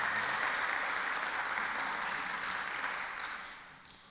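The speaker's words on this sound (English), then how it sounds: "I didn't intend for you to clap" Applause from a church audience, an even, moderately quiet patter of many hands that thins out toward the end.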